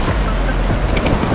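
Strong ocean surf at Bolinao, Pangasinan, a steady loud roar of waves breaking near a rocky shore, mixed with heavy wind buffeting the microphone.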